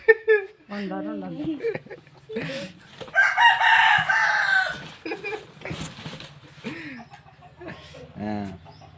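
Native country chickens on a farm, with a rooster crowing loudly nearby and hens clucking in short bursts, heard between and under frequent speech from people close by.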